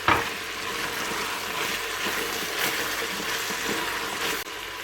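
Diced courgette sizzles steadily in a Cookeo multicooker, a dense, continuous frying hiss with a sharp initial crackle as the cubes hit the hot pot, then an even, close sizzle that drops off slightly at the end.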